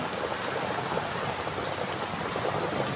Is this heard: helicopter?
no